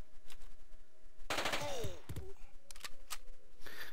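Automatic weapon fire in the Jagged Alliance 2 video game, one sudden loud burst of shots followed by whistling ricochet-like tones, set against steady game ambience.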